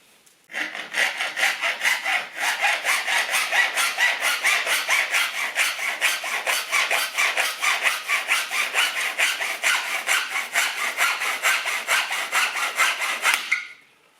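A hand saw cuts back and forth through roller blind parts clamped in a vise, producing a fast, even rasping rhythm that runs steadily for about thirteen seconds before stopping abruptly.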